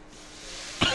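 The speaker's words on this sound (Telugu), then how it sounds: "నాకు దగ్గు వచ్చేస్తుందండి" A single short cough comes at close range in a home kitchen, a sharp burst near the end of a quiet second.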